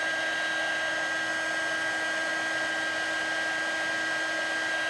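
A heat embossing tool blows hot air over a stamped Halloween card, producing a steady, unbroken fan-like whoosh that holds at one level throughout.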